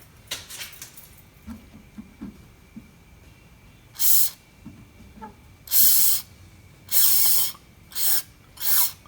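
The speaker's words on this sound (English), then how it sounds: "after forcing some of that carb cleaner through the fuel line, a bunch of black crud came out of there" Carb cleaner sprayed through the fuel line of a 1957 Chevy, five loud close hissing bursts of about a second each, following softer clicks and handling noises.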